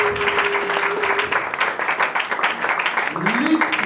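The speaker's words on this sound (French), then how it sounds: "Acclamons." A church congregation breaks into applause, a dense steady wash of clapping running throughout, with voices and a faint sustained tone mixed in beneath it.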